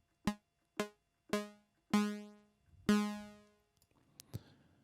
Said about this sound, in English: I've now got a short, plucky type sound.